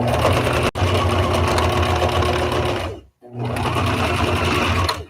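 Sewing machine stitching a tie-back fabric face mask, a steady close motor whir running continuously with a brief break near the middle, then resuming.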